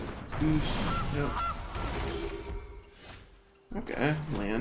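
Cartoonish goose honks from a card in Magic Arena, a few nasal honks near the start, a quieter stretch, then another burst of honking at the end, mixed with game sounds.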